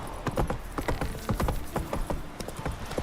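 Roach the horse's hooves clip-clop at an even walking pace in The Witcher 3, steady and close over a soft ambient bed.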